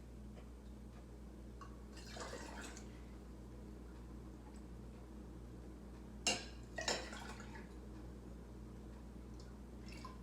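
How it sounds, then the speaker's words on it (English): Ham stock from a leftover ham bone is poured into glass canning jars, heard as two brief, faint splashing pours over a steady low background hum. "So we're just going to fill these jars up."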